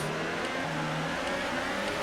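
F1 2018 video game race car held at high revs on the grid in Catalonia before the start lights, a dense continuous engine roar that stays loud and steady throughout.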